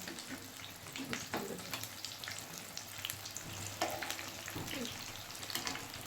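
Chicken pieces for dum fried chicken sizzle steadily in hot oil while being turned over, with a continuous crackling fry and scattered clinks and scrapes as the pieces are flipped.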